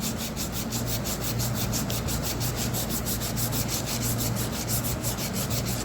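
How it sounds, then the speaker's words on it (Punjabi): A rusty scissors blade is scrubbed by hand to clean off rust, making quick, rhythmic rasping strokes that repeat steadily and close up, with no voices. "ਇਸ ਨਾਲ ਵੀ ਆਪਾਂ ਰਗੜ ਸਕਦੇ ਹਾਂ ਜੰਗਾਲ ਲਾਉਣ ਵਾਸਤੇ"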